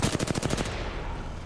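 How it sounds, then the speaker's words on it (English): Charge rifle fire in the Apex Legends video game comes as a rapid burst of loud gunshots lasting under a second, followed by a lingering noisy tail. "His teammate is shooting at me with a charge rifle"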